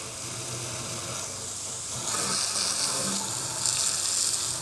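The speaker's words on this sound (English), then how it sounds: "So let's give it the good old hose test here." Garden hose spraying water onto a LiTime 48V LiFePO4 battery outdoors, a steady close hiss of spray that grows louder as the stream hits the battery's casing.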